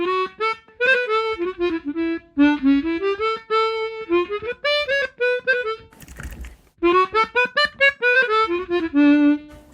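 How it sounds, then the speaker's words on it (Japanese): A chromatic harmonica plays a reedy, bright melody of short phrases with one brief breathy pause midway, close and fairly loud, no voices. "こういうクロマチックハーモニカ。"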